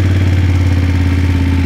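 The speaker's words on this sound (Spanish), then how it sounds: "Vamos a prender la moto." A BMW F 850 GS motorcycle engine runs close by in a loud, steady, throbbing idle with a mechanical clatter, holding the same note over this short stretch with no voices.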